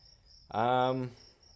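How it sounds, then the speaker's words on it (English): Crickets trill faintly and steadily in the background, briefly covered by a short voiced sound close by. "as you can hear, there's a bunch of crickets"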